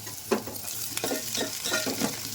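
Onion and chana dal sizzle in a pan, close and steady, with several distinct stirring scrapes rising over the frying hiss.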